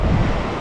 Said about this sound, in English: I can see a wave breaking back there